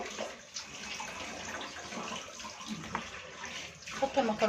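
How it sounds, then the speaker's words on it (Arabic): Water pours out as a pot of pasta is drained for Egyptian koshari, a continuous splashing rush with a few louder surges near the end. "اصفي الحله خالص"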